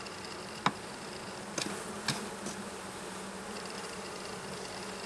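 Honeybees buzz in a steady, dense drone during an inspection of a queenless hive, with a few brief clicks and knocks of handling breaking through the continuous hum.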